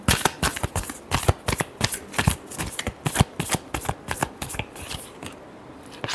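A deck of tarot cards is shuffled by hand in a quick run of crisp, riffling slaps and flutters, close and fairly loud, with no voice over it.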